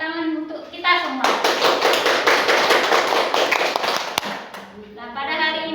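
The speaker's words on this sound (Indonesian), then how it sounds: "tepuk tangan untuk kita semua" An audience of women gives a burst of applause lasting about three seconds at a school positive-culture dissemination session. The dense clapping sits between stretches of someone speaking.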